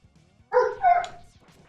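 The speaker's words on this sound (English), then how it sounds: "I do apologize for the dogs barking" Dogs barking in the background during game commentary, a brief two-bark burst at moderate volume with nothing else loud around it.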